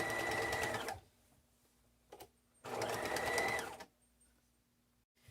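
A sewing machine top stitches the flap of a handmade satchel in two steady bursts of rapid stitching separated by a pause, close and fairly loud, with no talking.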